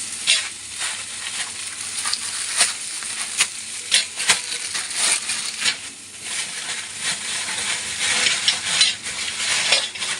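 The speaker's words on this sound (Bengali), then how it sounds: "এই মুগ ডাল ফোড়নটা দিলে এই যে কয়টা মুগ ডাল দিয়ে দিচ্ছি।" Mung dal being tempered in hot oil in a kadai crackles and sizzles throughout. Sharp pops and spoon scrapes come in a busy, uneven rhythm, close and fairly loud.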